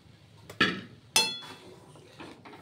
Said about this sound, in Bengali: এবার ভেজে রাখা পটলগুলো দিয়ে দিলাম।